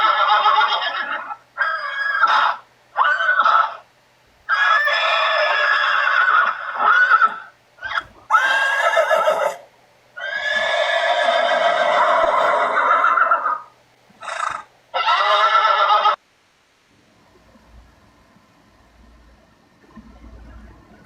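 A horse whinnies and neighs repeatedly in long, loud, wavering calls separated by short pauses, close to the listener, with the sound trailing off into quiet near the end.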